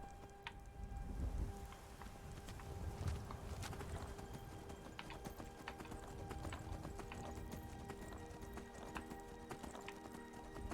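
Horse hooves clip-clop steadily while riding through the video game Skyrim, with occasional whinnies and a light patter of rain over a low rumbling backdrop, continuous at moderate level throughout.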